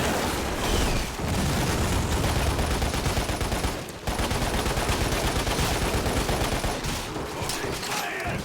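Sustained automatic gunfire from a video game machine gun, a dense continuous rattle filling most of the clip with a brief break near the middle, loud and close throughout.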